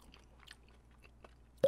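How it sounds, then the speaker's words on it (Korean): Quiet, sparse mouth sounds from someone eating beef tartare bibimbap and beef radish soup, with soft wet smacks and chewing clicks, ending in one louder, sharper smack. "쩝쩝 소리 내지 말까요?"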